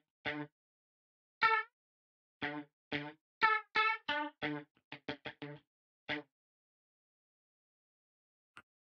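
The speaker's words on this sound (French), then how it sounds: "Si je coupe le rack, voici le son des guitares." Dry, clean electric guitar with the effects rack switched off, playing short, choppy funk stabs with silences between them, close and unadorned, with no reverb tail.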